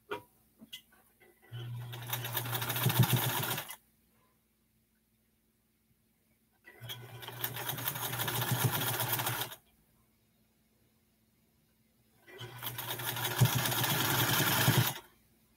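A sewing machine stitches quilt blocks in three sustained runs of a few seconds each, a steady whirring motor hum close by, separated by silent pauses.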